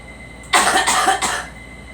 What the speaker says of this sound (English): I don't care how much you cough, let's get it all out.